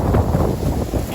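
Gusty 15 mph wind buffets the microphone on a disc golf course, a loud, continuous rumbling roar that fills the whole short moment with no voices.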